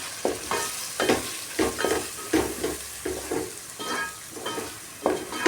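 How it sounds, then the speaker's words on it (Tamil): Red chilli powder and chicken masala powder sautéed in oil for a chicken gravy, a steady close sizzle broken by a regular rhythm of spatula scrapes and stirs, no talking. "சிக்கன் தூள் எல்லாம் போட்டு ஒரு வதக்கிக்கலாம். அந்த எண்ணெயிலேயே வதக்கிக்கலாம்."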